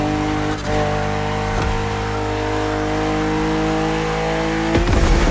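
A BMW M CSL engine in the racing game The Crew Motorfest accelerates through gears, a loud sustained roar with tonal harmonics and brief dips at the shifts.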